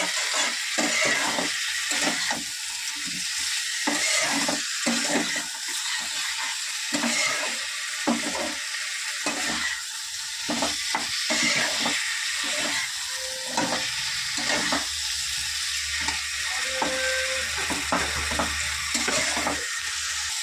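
Potatoes frying with salt in a little oil in a pan, a steady close sizzle with occasional stirring scrapes and clinks throughout.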